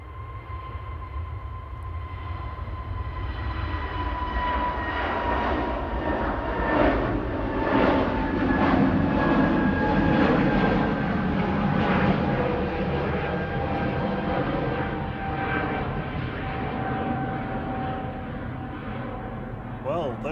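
Airbus A380 jet engines roar during a night departure from runway 23L at Manchester Airport, a loud, sustained rumble that swells and holds at a distance.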